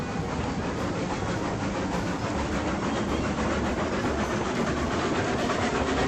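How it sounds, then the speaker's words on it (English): A very long train hauled by a Climax locomotive in the video game Railroads Online rolls along with steady rumbling and regular clickety-clack of wheels over rail joints, continuous and fairly loud without talk. "this is just a ridiculously long train"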